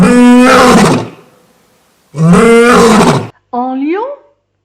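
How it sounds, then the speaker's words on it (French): A lion's roar from an ogre that has turned into a lion in a Puss in Boots tale, performed by a voice: two long, loud, close growling roars, then a shorter rising cry. "l'ogre transformé en lion pousse un terrible rugissement"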